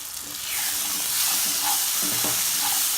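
Green peas are stirred into frying masala in a pan, setting off a loud, rising sizzle and steamy hiss along with a few scraping stirs, and no one speaks.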